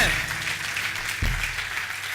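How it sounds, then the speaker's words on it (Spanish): A church congregation applauds loudly for the Lord during a pastor's sermon, a thick, sustained roar of clapping with a low thump near the middle and murmuring voices underneath. "Denle ese aplauso fuerte al Señor"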